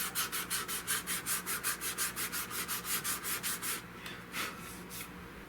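Wood on a Model 100 Winchester rifle stock is hand sanded with 100 grit sandpaper in quick, rhythmic back-and-forth strokes, close and scratchy, which then slow to a few sparser rubs near the end.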